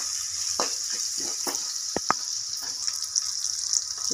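Coarsely crushed garlic frying in a pan gives a steady high hiss close by, broken by scattered pops and a couple of sharp clicks, with no talking.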